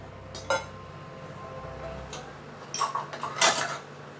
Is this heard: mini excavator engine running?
no